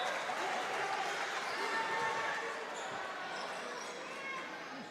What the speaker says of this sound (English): Edon's crowd has begun a big cheer for them and trying to spur their girls on for these last 5 points.